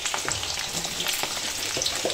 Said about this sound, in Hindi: तेल हमारा प्रॉपर गर्म है, अब इसमें कटहल को फ्राई करेंगे।